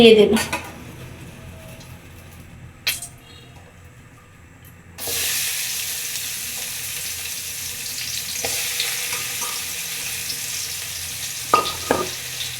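Chopped onions hit hot oil in a pan, with a sudden loud sizzle that then settles into a steady frying hiss, a few utensil clinks and scrapes over it, and a quieter stretch beforehand.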